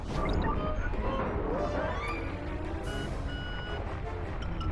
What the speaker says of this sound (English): I like that it actually beeps when you back up.